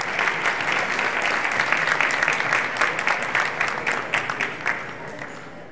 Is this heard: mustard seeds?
no